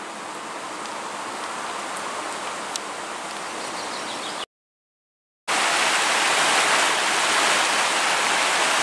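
Bystrzyca Dusznicka river flowing past the promenade in Polanica-Zdrój, a steady broadband rush of water that drops out for about a second midway, then returns louder and closer.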